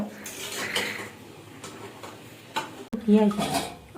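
Pots and utensils clink and scrape as a grandmother cooks giant prawns in a home kitchen, with several metallic knocks and a louder clatter near the end, mixed with voices talking.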